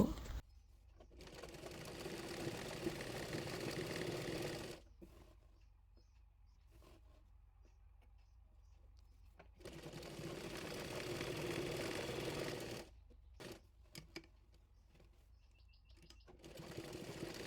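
A sewing machine runs in three long continuous bursts separated by quiet pauses, stitching the folded-under bottom hem of a kameez; a steady close whirring hum, fairly soft, with no talk.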